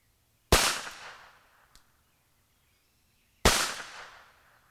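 Two sharp, loud gunshots from a Webley & Scott Mark IV revolver chambered in .38 S&W, a few seconds apart, each with a decaying outdoor echo and a faint click between them.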